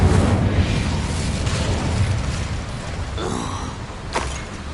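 Incendio fire spell cast in Hogwarts Legacy inside a mine full of Ranrock's loyalists: a dense, roaring burst with a sharp crackling flare near the end, loud over a steady rumbling game backdrop.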